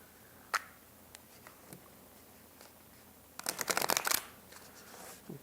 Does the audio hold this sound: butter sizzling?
no